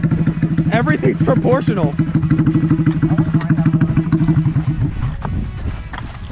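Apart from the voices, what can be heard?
small kid-sized motorcycle engine running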